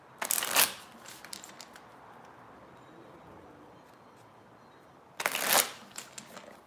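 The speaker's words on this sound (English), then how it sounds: "let's go ahead and shuffle some of these cards" Tarot cards being shuffled in two quick bursts, each a crisp riffling flutter about half a second long, separated by a stretch of quiet low room noise; no talking.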